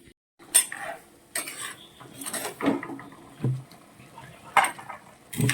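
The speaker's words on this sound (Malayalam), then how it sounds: "നമ്മൾ അരച്ചുകൊണ്ട് വന്ന അരപ്പ് നമ്മൾ കറിയിലേക്ക് ചേർക്കുകയാണ്." Ground coconut paste stirred into prawn curry in a pot, with sharp metallic clinks of a spoon against the vessel, scraping and wet stirring sounds in irregular bursts, close and fairly loud, no voices.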